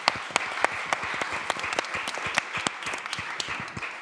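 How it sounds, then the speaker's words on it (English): At a World Food Day closing plenary, a crowd gives a sustained round of applause: a continuous patter of many hands, with a few crisp, closer claps standing out above it. "a warm round of applause for them"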